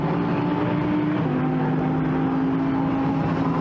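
A Lamborghini Super Trofeo race car engine, racing at the Nürburgring in 2017, drones loud and sustained, its pitch stepping down once partway through.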